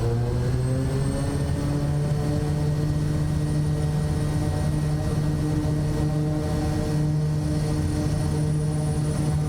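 A Kodiak 100 turboprop holds takeoff power on a windy runway, a loud steady engine drone with a strong even tone and constant hiss, close and uninterrupted.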